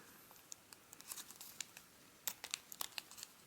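Paper being folded into an origami fish gives off crisp crinkles and rustles, with quick snapping creases clustered toward the end, close and fairly quiet.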